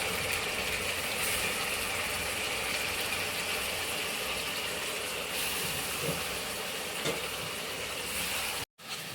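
A kitchen mixer coarsely grinds tomato and small onions, giving a constant loud whirring roar that runs unbroken for several seconds before cutting off abruptly near the end.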